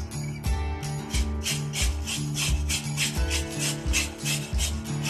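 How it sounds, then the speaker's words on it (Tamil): A zucchini is grated on a medium carrot grater for kheer, giving steady rhythmic rasping strokes, about two per second, loud and close with no talk. "இந்த கேரட் துருவதில் போட்டு நம்ம துருவி எடுத்துக்க போகிறோம்"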